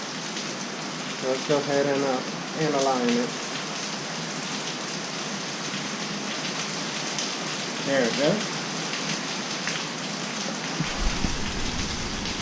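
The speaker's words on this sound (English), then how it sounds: "I don't know if you can hear the rain behind me." Steady rain hisses and patters close by throughout, with someone briefly talking over it.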